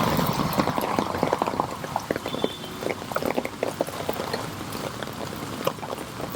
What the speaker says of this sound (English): Alright you guys, I guess I'm gonna go wading.